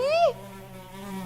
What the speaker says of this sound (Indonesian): ini lalat di mana-mana